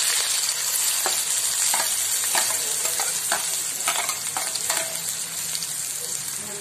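Onion frying in a pan for sukat (dried shrimp) fry, a steady close sizzle with several scraping stirs of a spatula, no talking.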